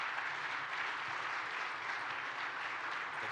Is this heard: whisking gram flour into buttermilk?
no